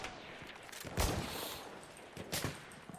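Distant gunfire in the World War I shooter Battlefield 1, two or three muffled shots with rolling echoes standing out against a low battlefield rumble.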